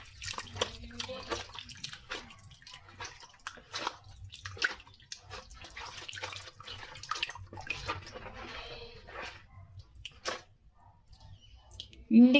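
A little water is poured into a container while mixing salt into feed in a village setting, a soft intermittent splashing and trickling close by, with quiet talk alongside.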